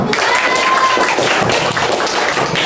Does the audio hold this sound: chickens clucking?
no